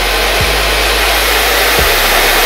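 A hair dryer roars in a loud, steady blast while blow drying hair, switching off and back on twice with brief dips, no voices over it.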